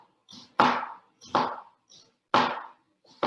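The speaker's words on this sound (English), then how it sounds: "make a radial cut on the onion" A kitchen knife making radial cuts through a purple onion on a board: four sharp, close chops, roughly evenly spaced, with quiet pauses between them.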